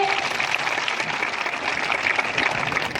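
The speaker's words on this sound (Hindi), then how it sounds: "एक बार बहुत जोर से तालियां हो जाए माननीय राष्ट्रीय अध्यक्ष जी के लिए" At a Samajwadi Party political rally stage in Gunaur, a crowd claps loudly for the party's national president, a thick continuous wash of applause without pause.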